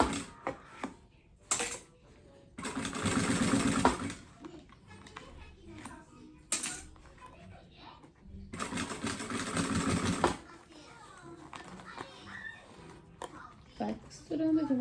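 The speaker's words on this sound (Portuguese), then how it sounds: "costurando devagarinho, não precisa ter pressa, não, tá?" Sewing machine stitching a heart-shaped bag, running in two long, steady bursts of whirring needle motion separated by quieter handling sounds, close and clear.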